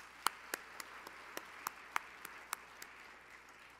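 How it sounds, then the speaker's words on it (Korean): Scattered, slow handclaps ring out one by one in a quiet church at a closing worship service for elders and their wives, sharp and isolated with gaps between them. "우리 뜨겁게 말씀 전하신 감독님에게 박수 한 번 더 하겠습니다."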